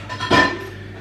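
A brief clatter of cutlery and a pan clinking as dishes are loaded into a dishwasher, one close metallic burst over a faint room hum.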